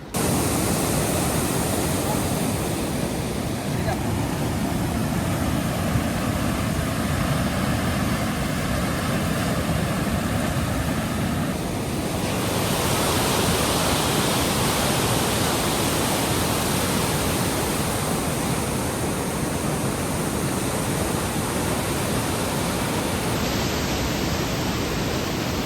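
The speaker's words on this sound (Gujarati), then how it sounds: "કેવું પાણી જાય છે." The flooded Kolak river after heavy rain rushes below a bridge as a loud, continuous roar of broadband water noise, steady and unbroken throughout.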